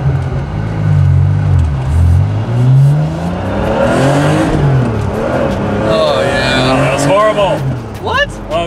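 A 1986 Porsche 930 Turbo accelerates hard in first gear. The engine roar rises loud and close, with the pitch climbing across the pull before a high whine at the end, and people talk over it.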